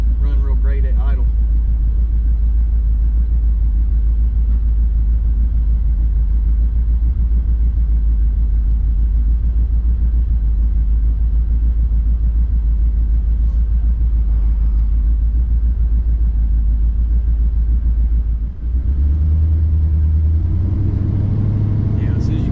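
An Oldsmobile Cutlass on 24-inch wheels idles roughly, a steady low engine rumble holding nearly unbroken, close up, with a brief dip and a shift in tone near the end.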